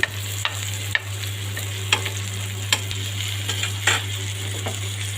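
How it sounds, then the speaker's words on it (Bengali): Pumpkin-leaf fritters made with dried chepa shutki fish fry in hot oil as they are turned, giving a steady close sizzle broken by a few sharp utensil clicks and taps against the pan. "আমার সবগুলো বড়া এপাশ ওপাশ করে আমি ব্রাউন কালার করে ভেজে নিচ্ছি"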